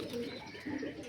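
Pigeons with young chicks cooing close by, a soft, low rumbling coo that swells twice over about a second.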